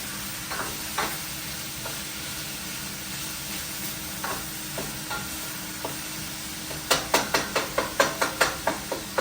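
Ground turkey browns in a lightly oiled pan, a steady sizzle running throughout, with a quick run of sharp utensil taps and scrapes near the end; no one talks.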